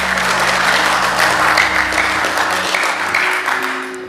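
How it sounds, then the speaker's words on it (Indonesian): Applause from members and attendees of Indonesia's DPR Commission III in a parliamentary hearing room, steady dense clapping filling the whole stretch at close range with a low hum beneath, easing slightly toward the end. "Pimpinan tepuk tangan dulu dong."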